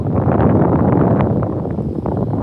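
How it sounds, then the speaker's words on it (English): Wind buffets a phone microphone outdoors, a loud, dense low rumble that gusts continuously for a few seconds with no other sounds evident. "It sounds windy down there again today."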